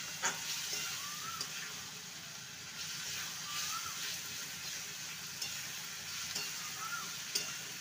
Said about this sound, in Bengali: এবারে ভেজে রাখা আলু পটল দিয়ে দেবো। সমস্ত কিছু মশলার সাথে কষিয়ে নেব।